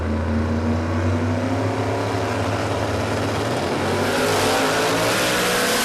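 A drag racing car makes a run at the Warwick Dragfest dragstrip during qualifying for the radial shootout, its loud engine roaring steadily and swelling stronger toward the end, with no voices.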